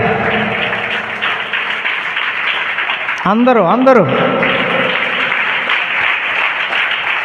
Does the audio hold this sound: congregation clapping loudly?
yes